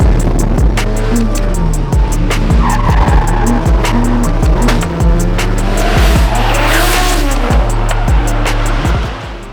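Drift cars tear through a course a little over a mile long, tires squealing and skidding in repeated loud bursts as engines rev and cut between slides, close by and continuous until fading near the end.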